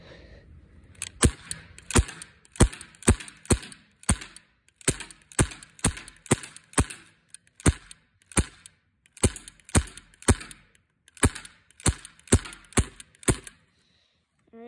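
A 1911-style BB pistol fires a long series of sharp, close cracks, mostly in quick pairs and triplets with short gaps between volleys, each snap clean and loud with no talking over it.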